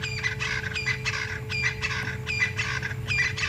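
Francolins calling on an African safari evening drive, a series of harsh, rhythmic, repeated cackling phrases about every half second, moderately near over a low steady hum.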